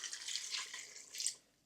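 Water runs and splashes from a tap or pitcher into kufta mixture for an Armenian dish, a short, faint steady pour that ends abruptly, with no talk.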